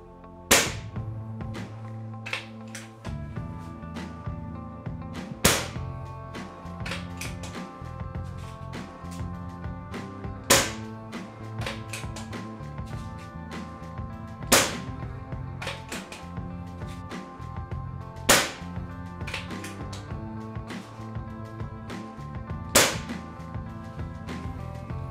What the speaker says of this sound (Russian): Это, по сути, были первые 5 выстрелов, которые она произвела.